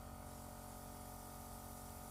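A Dinair airbrush spraying makeup onto cheekbones, a faint, even, continuous airy hiss with no break and no talking.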